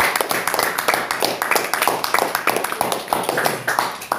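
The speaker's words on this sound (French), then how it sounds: "on applaudit, on applaudit, on applaudit, on applaudit." A church congregation claps their hands in a steady rhythm, loud and close, with voices mixed into the clapping throughout.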